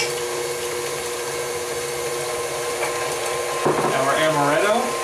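An electric mixer with a whisk attachment beats eggs and sugar in a bowl, a steady whirring drone throughout that grows louder and shifts pitch near the end.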